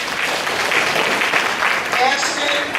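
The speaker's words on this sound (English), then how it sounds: "Let's give her a round of applause." A crowd at a middle school honors night banquet applauds a student, steady mid-level clapping that fills the room, with voices faintly mixed in beneath.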